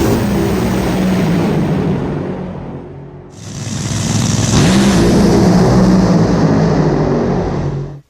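An NHRA drag racing car engine roars loudly on the gas, fades briefly, then surges back in a harsh, sustained blast of broadband engine noise before cutting off abruptly.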